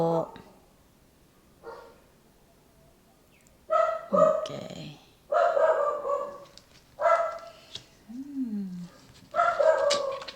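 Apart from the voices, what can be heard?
dog barking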